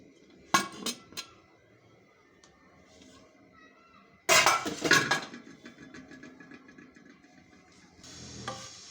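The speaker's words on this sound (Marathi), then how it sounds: "आपलं हे कुकर पूर्ण थंड झालेलं आहे आता मी याचं झाकण उघडून बघते" The lid of a cooled pressure cooker is opened, giving a few sharp metallic clinks and clanks near the start, then a louder clatter of metal lid handling with lingering rattles.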